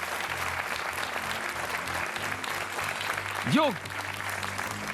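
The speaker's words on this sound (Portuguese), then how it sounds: "5 segundos de palmas" Studio audience applause fills the air as an even wash on the RTP 1 television quiz show Joker, while a presenter speaks briefly over it.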